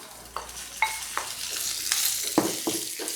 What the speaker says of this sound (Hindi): हल्दी और मिर्च को थोड़ा पकाएंगे। और साथ ही मैं इस पर अरवी ऐड कर देती हूँ।